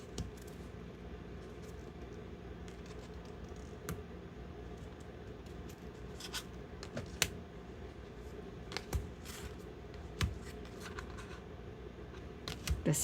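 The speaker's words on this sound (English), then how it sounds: "I like the way it sounds when it shuffles" A deck of autumn-themed tarot cards being shuffled, with soft papery riffles and scattered sharp clicks of cards snapping together over a quiet, steady background hiss, no voices.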